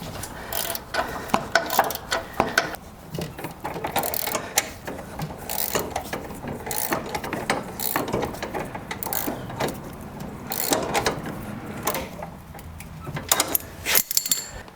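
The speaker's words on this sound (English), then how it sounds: "Okay, so I got all the bolts tightened up" Bolts are tightened on a John Deere riding mower engine during an engine swap, with repeated ratchet clicks and metallic tool clinks in irregular bursts, close by and fairly loud, with no talking.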